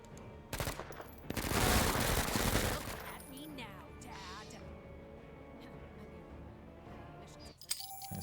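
Burst fire from a gun in the MENACE video game: one loud rapid burst of shots lasting about two seconds near the start, followed by quieter game effects and a voice talking over them.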